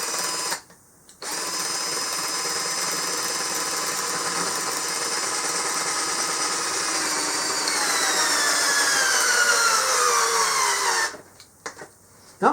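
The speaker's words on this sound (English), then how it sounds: "20-volt drill into 3 pieces of pressure-treated wood," A 20-volt cordless drill driving a bolt into three pieces of pressure-treated wood, not pre-drilled, whines steadily for about ten seconds, its motor pitch sagging as it strains under load, then cuts off abruptly.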